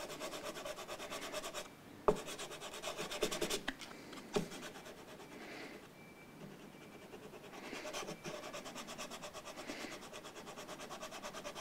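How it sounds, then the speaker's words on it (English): Hand sanding of a Burns Brian May Red Special guitar with 180 grit sandpaper, giving soft, faint rubbing and scratching strokes in an irregular rhythm with a few sharper knocks. "use a bit of heft, a bit of 180 grit. It just helps me to smooth that back a bit."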